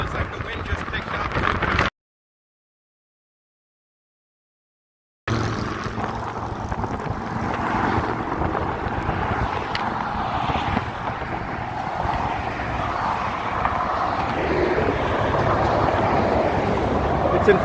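Strong wind buffeting a microphone on the Golden Gate Bridge, a loud continuous roar with a brief dropout early on, then steady gusty rumble.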